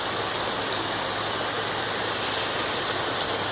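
Hail and rain pour down outdoors at a house, a dense, loud, continuous hiss of falling water and ice with no pauses and no talking.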